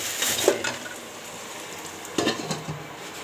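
Chicken meat frying in a pan in a home kitchen, with a soft, even hiss broken by two short bursts of utensil clatter against the pot.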